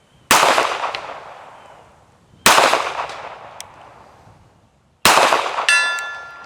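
Three sharp shots from a Tisas 1911A1 pistol, each followed by a fading ring, with the distant ping of a torso-size steel target hit at 100 yards after at least one shot. The shots are spaced about two and a half seconds apart.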